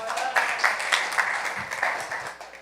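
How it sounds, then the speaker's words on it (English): An audience applauds and claps at a youth gathering, a dense, steady wash of hand claps for a few seconds, close and moderately loud, with faint voices mixed in. "Let's clap that up, please."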